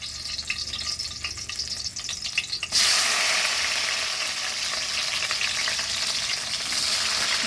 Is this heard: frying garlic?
yes